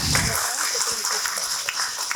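Audience at a Salangai Pooja dance ceremony at Sri Saradha Kala Mandir claps to welcome the children, a steady sustained patter of applause from a hall crowd with a voice talking beneath it.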